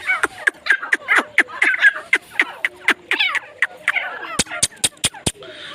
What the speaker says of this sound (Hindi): ये टर्की है जी, चेक कर लें माशाल्लाह।